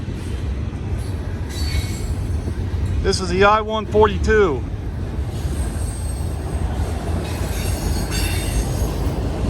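A CSX or Norfolk Southern freight train rolls past with steady rumble and a brief burst of squealing wheels, while someone speaks briefly partway through.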